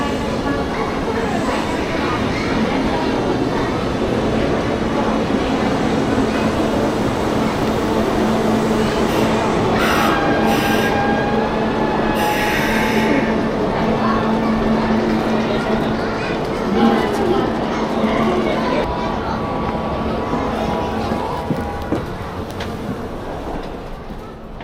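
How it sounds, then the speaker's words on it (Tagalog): A train bound for Nagoya in Japan rumbles steadily along the rails for a long stretch, with a constant hum and occasional high squeals and tones, while people talk quietly nearby. "Our train to Nagoya."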